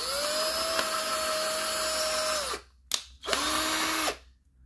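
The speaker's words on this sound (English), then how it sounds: "First thing I'm going to do is I'm going to create a pilot hole with this." Power drill boring a pilot hole for a curtain pole bracket, a loud steady high whine running about two and a half seconds, stopping, then a short blip and a second shorter burst, close up with no speech.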